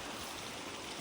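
A river in the Alaskan wilderness flowing in a steady, close broadband rush of water, unbroken for about a second with no voices.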